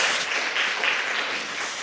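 Applause in a church after a choir's hymn, a short, thin patter of clapping from a modest congregation, steady for about two seconds.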